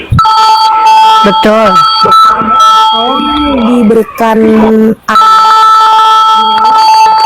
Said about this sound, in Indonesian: Dek, ada telepon, Dek, angkat dulu, Dek.